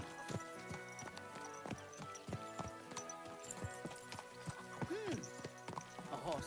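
Horse hooves clip-clop in a steady, rhythmic gait in the video game Kingdom Come Deliverance 2, close and clear, with a brief whinny near the end over a faint background bed.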